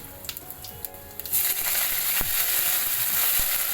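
Cumin seeds and kasuri methi dropped into hot oil for an aloo tamatar sabzi, with scattered crackles and spoon clinks first, then a loud steady sizzle that fills the rest.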